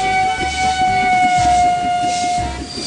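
Train engine in a kids' train racing video game, a steady synthetic whistle-like tone held over a rhythmic chugging rumble, loud and close throughout.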